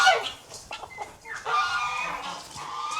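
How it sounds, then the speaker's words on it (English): Farm chickens cluck and squawk in a busy, overlapping chorus close by, with sharp calls rising over a continuous flock murmur. "These chickens act like they've never had anything to eat and their feeders are full."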